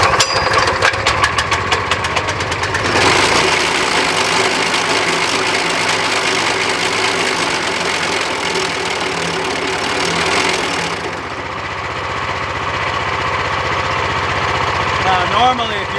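A 15HP manual trencher's engine starts with a few rapid knocking pulls, then settles into a steady, loud mid-pitched running drone that drops slightly near the end, heard up close.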